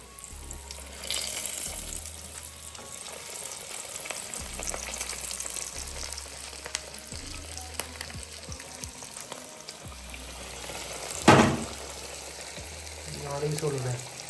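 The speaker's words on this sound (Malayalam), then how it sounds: "നമ്മളെ മെയിൻ ഐറ്റം ഫ്രൈഡ് ചിക്കൻ നമുക്ക് നമ്മളെ തിളച്ച എണ്ണയിലേക്ക് ഇട്ട് ഫ്രൈ ചെയ്തെടുക്കാം" Chicken leg pieces deep fry in hot oil at home, a continuous crackling sizzle lasting throughout with intermittent stirring clinks and a louder splash-like burst near the end.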